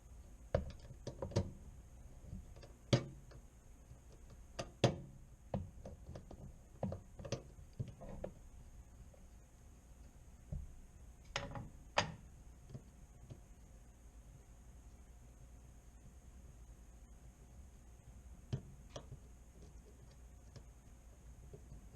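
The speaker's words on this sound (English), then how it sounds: "as you start to unscrew the screw, you can just keep it pressed up against the plate" A screw being unscrewed from the light cover of an over-oven microwave, heard as scattered faint ticks and small knocks with quiet gaps, close by and alone with no talk.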